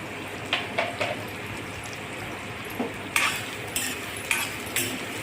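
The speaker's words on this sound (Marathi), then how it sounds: "कांदा छान चॉकलेटी कलर येईपर्यंत परतून घेणे" Onions for a cashew masala gravy sautéing in a pan until deep brown, a steady low sizzle broken by several clinks and scrapes of a spoon against the pan, close and moderately quiet.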